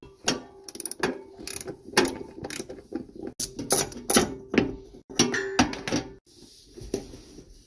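Ratchet clicking in short bursts while a bolt is worked loose from the lower steering shaft of a 1999 Jeep Wrangler, with repeated metallic clicks and clanks close by.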